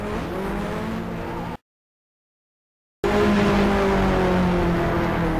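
Race cars at Kansas with one car spinning, loud engines roaring and revving in a pack with a faint tire squeal. The sound cuts to a short silence in the middle, then returns louder.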